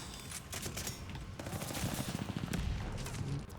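Rapid overlapping gunfire from the video game Call of Duty: Vanguard, dense bursts and single shots crackling continuously at moderate volume without pause.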